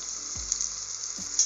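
Steady, close sizzling of sliced carrot and medium capsicum frying in a pan for khichdi, a continuous hiss with a couple of soft low thumps as pieces drop in.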